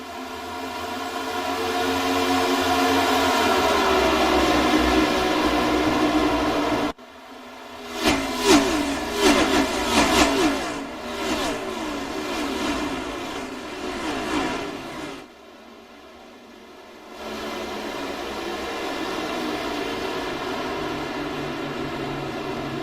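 V8 stock cars racing at Kansas Speedway in a racing video game, loud sustained engine drone with rising and falling revs as cars pass, a brief lull, then the steady roar returns.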